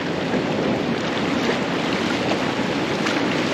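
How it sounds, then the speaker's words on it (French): Strong, large ocean waves at Daytona beach make a steady, loud, broadband roar of surf with wind buffeting the microphone. No voices are heard. "les vagues sont fortes, sont grosses"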